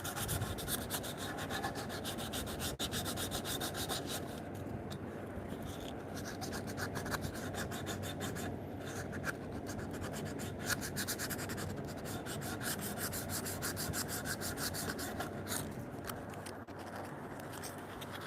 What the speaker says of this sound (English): once you start sanding from the corner there, if you're going grain wise